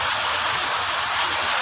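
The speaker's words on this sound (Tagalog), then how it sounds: "Ay, lakas ng ulan." Heavy rain pours down in a dense, steady roar that fills the clip at close range, with no voices.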